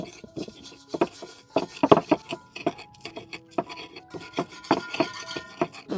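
Fried tempeh and sambal are ground in a stone mortar with a stone pestle in a field kitchen, uneven scraping and thudding strokes coming quickly and close, with no talk over them.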